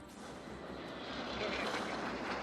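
Six-ship formation of aerobatic jet aircraft in an air show display, sweeping past with a loud, continuous engine roar that builds slightly as the jets come closer.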